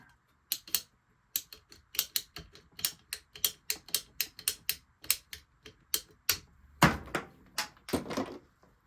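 Sharp, rapid clicks and snaps from cutting plastic pipe during a home water softener installation, a quick irregular series of close, crisp ticks with a couple of heavier crunches near the end.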